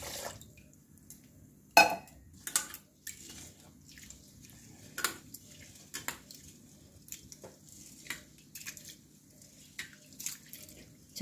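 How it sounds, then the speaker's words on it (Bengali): Rice grains are washed with water in a kitchen, producing soft irregular splashes, drips and grainy swishing taps, close and fairly quiet with no talking. "জল দিয়ে ভালো করে ধুয়ে নেব।"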